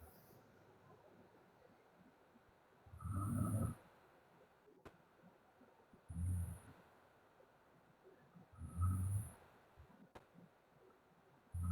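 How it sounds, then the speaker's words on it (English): A sleeping man snores in slow, separate rumbling breaths, four spaced roughly three seconds apart, faint and muffled against a quiet background. "That's my husband snoring."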